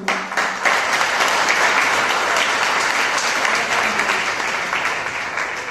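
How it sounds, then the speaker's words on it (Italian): Sustained audience applause at a school percussion concert, a dense, steady wash of many hands clapping that holds loud for several seconds before easing slightly at the end. "Vi chiedo un altro applauso per la prima A e prima B"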